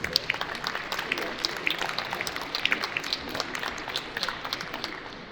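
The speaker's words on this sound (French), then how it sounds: "j'ai envie qu'on applaudisse un petit peu." Indoor audience at a science festival round-table applauding steadily: dense, even clapping from many people in a hall, held at moderate level for the whole stretch.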